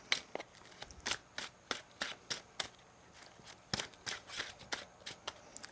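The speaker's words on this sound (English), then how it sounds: "One more shuffle here." Tarot cards riffle and snap in a quick irregular series of crisp bursts, close up, with no talking.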